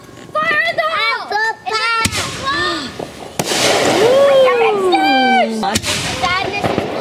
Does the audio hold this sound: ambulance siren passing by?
no